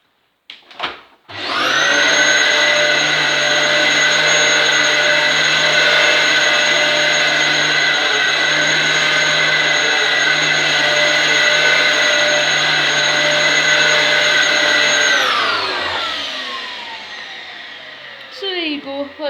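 A Dyson DC07 upright vacuum cleaner runs on carpet, a loud, steady motor whine that starts abruptly and holds for about thirteen seconds, then spins down as it is switched off.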